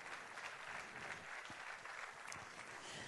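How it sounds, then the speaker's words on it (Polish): A gala concert audience applauds a prison service vocal ensemble with sustained, even clapping from a large crowd, heard faintly at a distance and without talk. "Duże brawa jeszcze raz"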